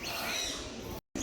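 A parrot calls at a wildlife park, a brief, harsh bird cry heard against a noisy outdoor background, cut short by a sudden gap.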